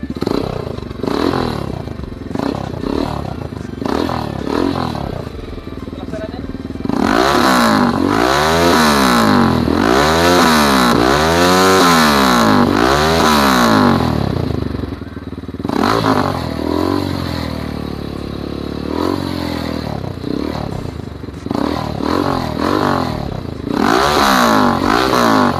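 Motorstar Explorer 250 motorcycle fitted with an Akrapovic M1 muffler, close-miked low near the exhaust, idling with a bassy rumble, then a run of loud rhythmic revs rising and falling, a steadier high hold, and more revving toward the end.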